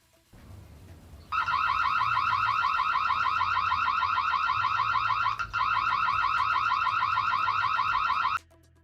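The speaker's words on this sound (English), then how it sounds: "The alarm is pretty loud, which I like, and here's a quick audio sample." A loud, rapidly pulsing electronic alarm from an Imilab smart video doorbell starts abruptly, blares continuously with a brief dip midway, then cuts off, close to the microphone.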